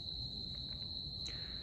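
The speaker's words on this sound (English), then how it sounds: "I apologize if you can hear the sound of crickets behind me." Crickets chirp on a summer evening outdoors, a steady, thin, high-pitched trill that holds continuously at low volume throughout, with no voices.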